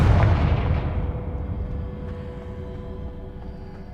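A Confringo fire-blast spell detonating in a wizarding video game, heard as a single loud, deep boom that rolls and slowly fades over several seconds, with no talk.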